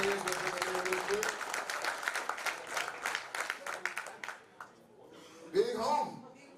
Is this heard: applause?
yes